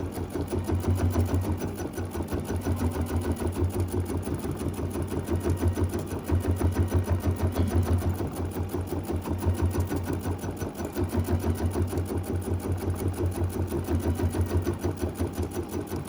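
A sewing machine stitching a mini quilt runs steadily and close, with a fast rapid rhythm that continues for the whole stretch, only briefly faltering.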